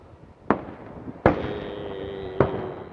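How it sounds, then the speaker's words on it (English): Fireworks burst outdoors in three sharp bangs about a second apart, each followed by a ringing, crackling tail that lingers between blasts, moderately loud with no voices. "I guess here's 20 seconds of fireworks,"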